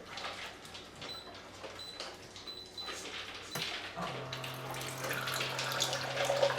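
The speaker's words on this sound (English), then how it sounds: "So once they start eating, I fill up my water." A dog whimpers and yips in a kitchen, then water from a Waterdrop reverse osmosis filter system starts flowing in a steady, moderate stream into a container, getting slightly louder as it fills.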